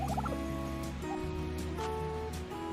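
Several farmyard turkeys gobble and call close by in a garden, their warbling gobbles overlapping over a few seconds against quiet background noise.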